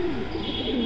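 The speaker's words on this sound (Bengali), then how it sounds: "তো ইসুফ ভাই এখানে এগুলো আমরা কি কবুতর দেখছি ভাই" Fancy pigeons coo at a pigeon farm in Natore, a single brief, low, throaty coo heard close and clear over faint background noise.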